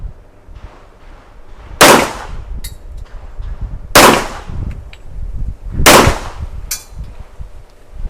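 An STI Champion pistol fires three loud, sharp gunshots about two seconds apart, each with a short ringing tail and faint clinks of brass between them.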